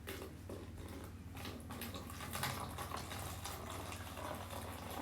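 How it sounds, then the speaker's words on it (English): White vinegar pours steadily into a bottle, a continuous liquid gurgle and splash close by with a low tonal hum beneath, running for the whole stretch without speech. "Okay, so we're putting white vinegar in our bottle."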